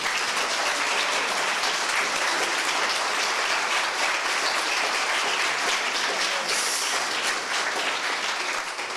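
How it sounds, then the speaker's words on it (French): A French audience at a media-awards ceremony applauds to cast a vote, loud dense clapping sustained for several seconds with no talk over it. "applaudissez, s'il vous plaît."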